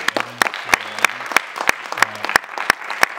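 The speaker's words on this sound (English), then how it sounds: "let's have a big round of applause" Audience applause following a director's Q&A on independent 3D film, with sharp, evenly spaced claps standing out near and loud over a steady wash of clapping from the crowd.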